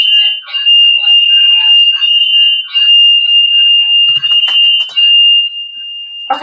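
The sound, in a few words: loud alarm sound like a fire alarm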